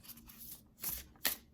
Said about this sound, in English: I'm going to do 5 shuffles